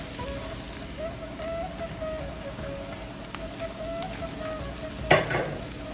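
Okra stir-fried in a pan with softened onion and garlic for a Kerala thoran, giving a steady close sizzle with scraping stirs and a sharper clatter near the end.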